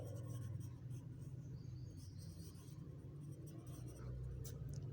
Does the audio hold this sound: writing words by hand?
yes